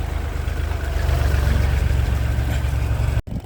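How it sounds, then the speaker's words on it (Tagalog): A tractor loaded with harvested rice in a Mindoro paddy field, its engine running with a steady low rumbling drone close by, cutting off abruptly near the end. "Ayan si traktora, punong-puno ng palay."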